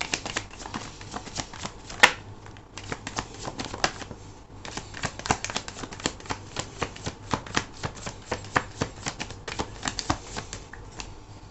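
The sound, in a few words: tarot cards being shuffled and drawn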